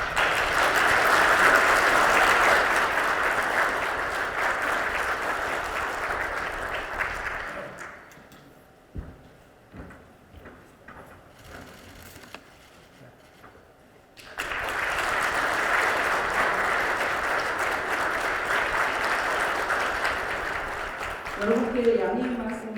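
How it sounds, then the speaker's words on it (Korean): Audience applause greets Yoon Suk-yeol, the People Power Party presidential candidate, at a morning forum, with loud sustained clapping for about eight seconds, then a quieter stretch of low activity before a second burst of clapping, with a voice briefly entering at the end. "여러분 환영과 격려의 박수 부탁드립니다"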